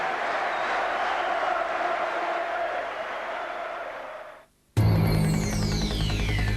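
Celtic football fans in a stadium crowd, a broad roaring wash of voices that fades briefly before a sudden loud burst of louder sound, dense and continuous.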